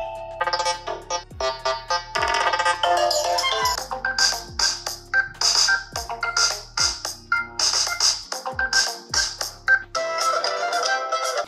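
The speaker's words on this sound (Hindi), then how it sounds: "लाइक अगर आपके फ़ोन में रिंगटोन बजती है तो स्पीकर कितने लाउड आएंगे।" Loud DJ-style ringtone with a thumping beat and bright melody plays from a Lava Blaze 5G budget phone's speaker at full volume, continuous for about ten seconds with short pulsing bass hits.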